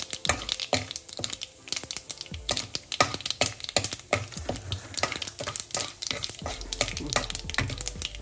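Mustard seeds and urad dal frying in a pan of hot oil with a pinch of asafoetida, a dense run of close, rapid crackles and sharp pops spread across the whole stretch.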